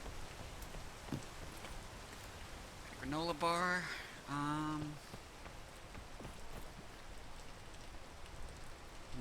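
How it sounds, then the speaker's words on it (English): Soft, steady rain hisses faintly in the video game PEAK, with a person speaking briefly over it partway through. "First rain."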